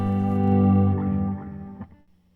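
An electric guitar runs through a Mile End Effects MTHRFCKR=RPTR pedal, giving a thick distorted, chorus-like repeating tone that swells and then fades into a few scattered echoing notes, with no one speaking.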